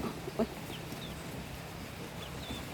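Chickens cluck softly out in the open, a few short clucks early on over a steady broadband outdoor hiss, with faint bird chirps scattered through.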